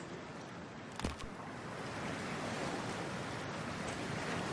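Ocean water in Cyberpunk 2077 as a character swims: a steady, fairly quiet wash of surf-like noise with one brief splash early on, and no voices.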